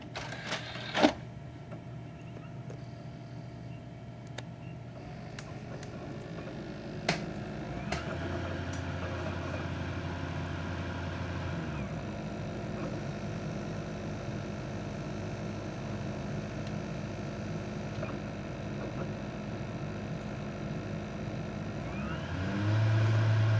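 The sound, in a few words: game console running noise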